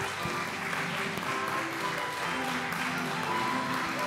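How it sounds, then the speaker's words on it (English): A school Christmas program audience applauds steadily, a dense wash of clapping that holds at an even level throughout without pause. "Keep the applause going, guys."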